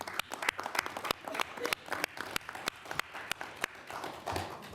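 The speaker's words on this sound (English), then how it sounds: "Let's give her a round of applause." Scattered, fairly faint applause at a mayor's roundtable, with individual claps standing out sharply in an uneven rhythm rather than a dense roar.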